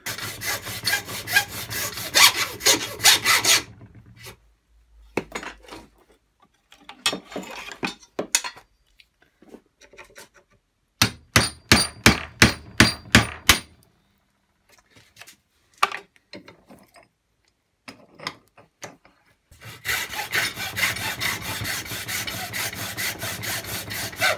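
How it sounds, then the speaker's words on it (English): A hand saw cuts a JCB angle grinder in half, in bursts of rhythmic, rasping back-and-forth strokes broken by short pauses, with louder grinding passages at the start and end. "I could just chop in half with the saw, do the autopsy."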